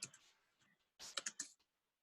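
Typing on a computer keyboard: a few light key taps, then a quick burst of several crisp clicks after a short pause, faint and close in an otherwise quiet room.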